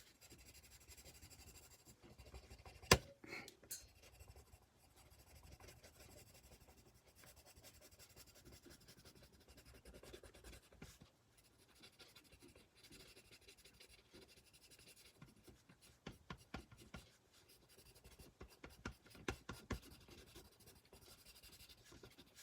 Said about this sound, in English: color it in with colored pencils